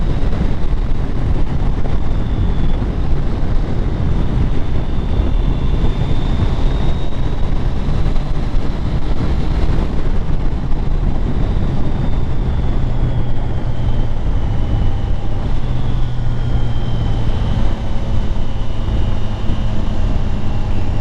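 Wind roaring and buffeting against a motorcycle helmet while riding a Triumph Tiger 660, a loud, constant low rumble with a faint whine drifting underneath.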